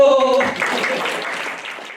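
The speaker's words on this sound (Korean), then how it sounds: "박수!" Audience applause at a married couples' class, starting right after a brief shouted voice, then a thick burst of clapping that gradually fades over two seconds.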